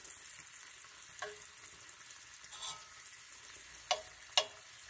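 Capers cook in a pan for chicken piccata, giving a faint, steady sizzle with a few soft utensil clicks and scrapes and no talking.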